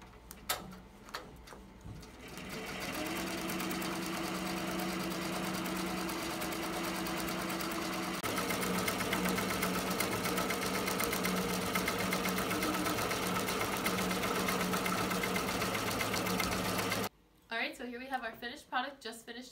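An embroidery machine stitches a design onto a textured knit beanie, running as a loud, continuous, rapid mechanical whir with a steady rhythmic hum that shifts pitch partway through before stopping, followed by brief handling noises.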